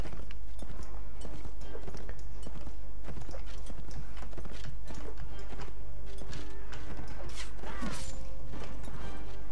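Horse hooves clip-clopping at a gallop in the video game Mount and Blade Warband, a steady run of close, sharp hoof strikes mixed with clashing battle noise and scattered thuds.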